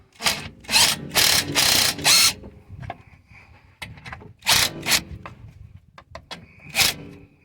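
Bolting a plastic axle cover back onto a Mercedes C240 during rear shock replacement: bursts of a power tool whirring in short runs, interspersed with ratcheting clicks, clanks and handling noises nearby.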